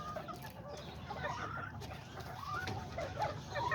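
Chickens and a small young rooster cluck in a pen, a scattered run of soft calls over a low background.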